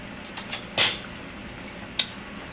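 A metal spoon clinks against a pot while gravy is tasted, two short bright taps about a second apart, close and fairly soft over a quiet room.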